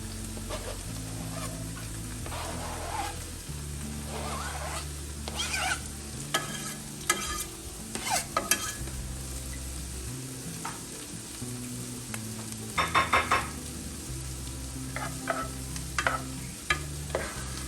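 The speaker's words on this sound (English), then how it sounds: "Now you really want to brown this Spam. Get it nice and crispy." Sliced Spam browning and crisping in a hot pan for poor man's tacos, a steady close sizzle with intermittent scraping and stirring clatter from the utensil against the pan.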